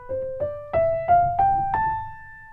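A keyboard plays the Aeolian mode, the natural minor scale, as six clear ascending notes struck one after another at a steady, unhurried pace, each sustaining into the next, with no voices.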